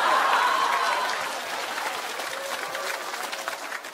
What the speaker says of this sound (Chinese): 鼓掌，鼓点掌。